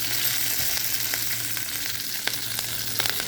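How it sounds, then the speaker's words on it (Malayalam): Curry leaves drop into hot oil with frying onions and sizzle loudly and steadily, a close, continuous crackle with occasional sharper pops and no voices. "അപ്പോൾ എന്ത് ചെയ്യുക, നമ്മൾ കറിവേപ്പില ഇട്ട് കൊടുക്കാം."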